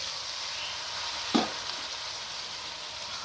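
Cucumber and tomato frying in a cooked-down spiced masala, a soft continuous sizzle with one brief scrape of a spoon stirring through the pan.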